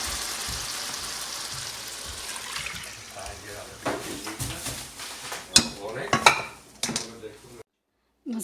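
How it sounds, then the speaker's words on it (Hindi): Soaked masoor lentils being tipped into a pot of cooked masala and stirred, wet sloshing and pouring followed by clinks and scrapes of a spoon against metal, close and growing busier before cutting to silence. "अब हम इसके अंदर जो दाल भिगो के रखी थी वो हम इसके अंदर डाल देंगे"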